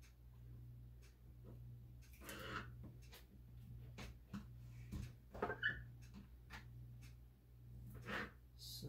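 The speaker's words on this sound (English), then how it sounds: "I'm going to cut this into half moons" A knife slices a vegetable into half-moon pieces on a board, with a scattering of soft, irregular taps and cuts over a low steady hum, quiet and close.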